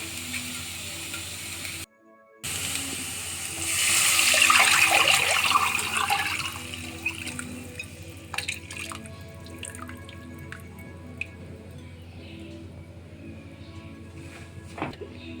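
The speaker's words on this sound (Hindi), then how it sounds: "इसमें एक घोल मिला लेंगे दही वाला।" Yogurt and gram-flour batter pours into a pan of softened onions for Punjabi pakora kadhi, a close liquid splash and sizzle that swells for a few seconds and then settles into a faint, steady bubbling with light drips.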